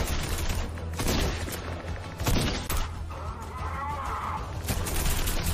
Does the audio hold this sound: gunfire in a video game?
yes